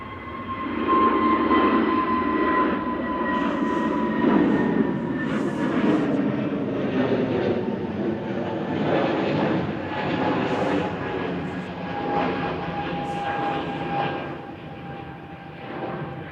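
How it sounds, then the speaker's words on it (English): An easyJet Airbus A320neo jet rolls and climbs away on takeoff at Manchester Airport, a loud, sustained broadband engine roar with whining tones that holds steady for the whole stretch and eases slightly toward the end. "EasyJet to Lyon, flight 2115 going next. This is a Neo, A320 Neo Guzzler"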